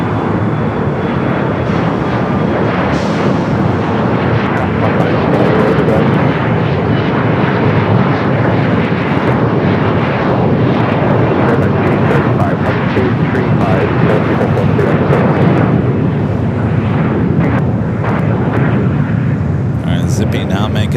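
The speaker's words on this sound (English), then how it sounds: "Maintain 3000, runway 25 left, clear for takeoff." An airliner roars down runway 25 left at LAX on its takeoff run, a steady loud jet rumble that fills the whole stretch, with a voice talking over it.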